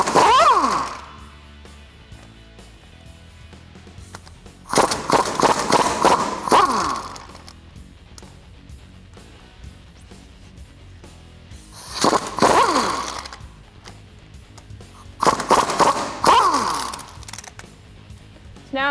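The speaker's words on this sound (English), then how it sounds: "Now I'm going to take a 15 millimeter socket and an extension and remove those bolts" A 15 mm socket on an extension works loose the drive shaft bolts of a Jeep Wrangler JK, giving four separate bursts of quick metallic ratcheting clicks, close and fairly loud, with quiet pauses between them and a soft steady hum underneath.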